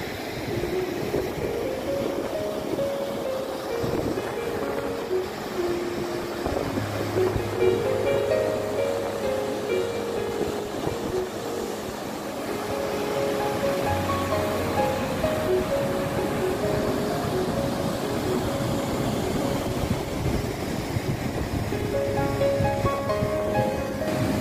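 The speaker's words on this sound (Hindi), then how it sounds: "सबसे पहले अपन वाटरफॉल देखते हैं।" Rewa Kyoti waterfall pours with a steady, loud rushing roar that stays even and continuous throughout, with faint tonal sounds layered over the broad wash of falling water.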